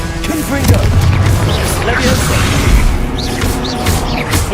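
Spell blasts in Hogwarts Legacy, loud continuous booms, crackling impacts and magical whooshes in dense combat, mixed with an incantation-like voice.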